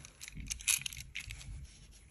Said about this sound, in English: Now I think you need to rotate it to actually get to cut the outside insulation.